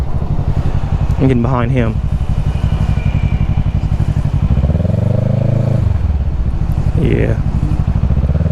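Kawasaki Ninja 650 motorcycle engine running loud and close at a homecoming ride, holding a steady throbbing drone with a rising rev swell near the middle, while people talk over it.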